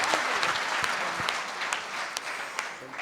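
Steady applause from the crowd at a Hindi poetry gathering, a kavi sammelan at the Khadkhadi Mahotsav in Hapur, sustained and even for several seconds with individual claps popping out of the wash.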